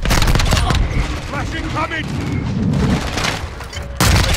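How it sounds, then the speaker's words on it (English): Mortar strike explosions in Call of Duty MWII hit in a loud, rapid barrage of booms and crackling blasts, close and continuous over the whole stretch. "Our mortar strike is inbound."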